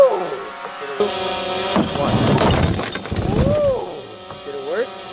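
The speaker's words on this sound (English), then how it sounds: "Let's see if we can get a cut on this iPhone." A 12 ft guillotine blade crashes down through a taped-down iPhone, a sharp crunch and splintering burst loud and close, followed by a whoop and excited voices.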